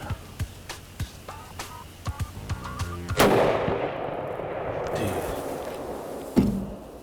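Rifle shot during a deer hunt: a single loud, sharp blast booms and rolls off across open ground after a series of soft clicks and knocks. A fainter thump follows near the end.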